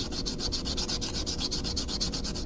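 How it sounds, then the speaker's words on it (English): Close, steady rhythmic rasping as the edge of a small coin is sanded back and forth on an abrasive filing board, rapid even strokes with no talking. "it actually sands the edge of these coins real nice"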